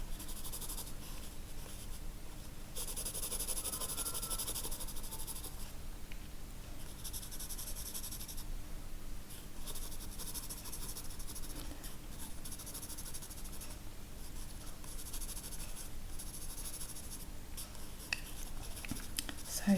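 Pencil sketching on paper, a steady continuous scratch of graphite strokes running throughout, close and clear with no talking.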